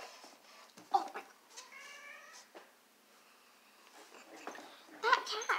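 A cat on a table meows several times, quiet and close, with short tonal calls and a louder cry near the end, over faint room noise and a murmuring voice.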